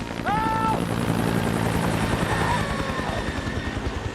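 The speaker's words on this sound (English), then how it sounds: "this helicopter just literally seemed like it was flying out of the mist" A helicopter flies close by, its rotor thumping in a steady rapid beat under a whining turbine tone, loud and continuous throughout, with a brief rising whistle near the start.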